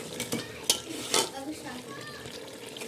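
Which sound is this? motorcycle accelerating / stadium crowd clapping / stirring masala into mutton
stirring masala into mutton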